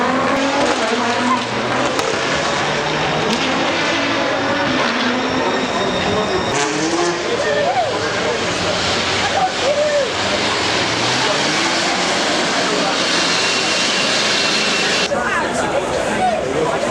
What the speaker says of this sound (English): The first cars are making their way to the start of the hill climb.